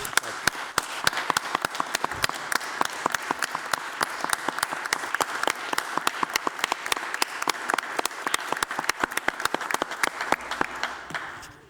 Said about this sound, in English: we would like to give her a round of applause